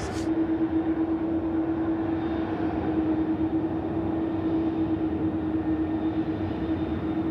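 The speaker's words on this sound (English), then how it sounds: "And now we're just watching Qantas 648, the service in from Perth, A330-200. Coming across." A Qantas A330-200 airliner in from Perth passes at Sydney Airport at night, a steady, continuous jet roar with a sustained engine hum holding at an even level throughout, with no talk over it.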